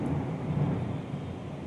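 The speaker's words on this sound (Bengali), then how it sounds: "মেঘ ডাকছে খুব" Thunder rumbles low and steady during a heavy rainstorm at home, a continuous deep roll at moderate loudness with rain noise and no speech.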